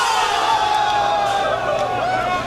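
An air hockey crowd cheers and whoops loudly in a short, dense burst of shouting voices that carries steadily through the moment.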